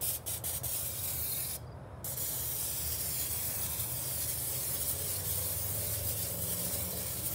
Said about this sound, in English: We're going to spray a little canola oil on there first.